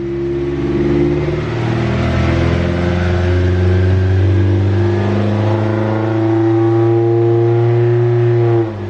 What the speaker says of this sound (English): Seems to be shifting gears really quick